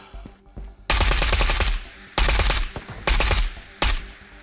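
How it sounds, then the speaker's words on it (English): Gunfire in the shooter game Ghosts of Tabor comes in four loud, close bursts of rapid automatic shots separated by short pauses, with a few faint clicks before the first burst. "I guess I can just shoot him with this now"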